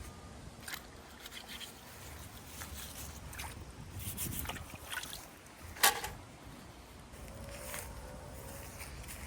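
Harvested garden vegetables are rinsed with water outdoors, with a soft continuous splashing and trickling, scattered light knocks and one sharp clack midway; quiet and close, with no talk.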